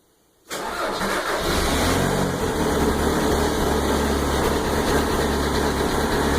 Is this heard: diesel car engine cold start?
yes